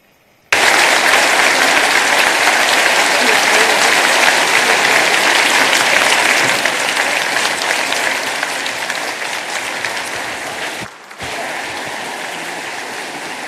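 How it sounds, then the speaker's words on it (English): Audience applause fills a large summit hall, a dense, steady wash of clapping that starts abruptly and carries on loudly, slowly thinning, with a brief dip near the end. "please, another round of applause for President Xi Jinping of China."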